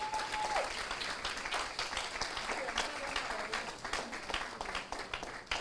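An audience in a large room at a university new students' orientation applauds fathers, a dense sustained clapping that stays loud and even throughout, with a brief tone near the start.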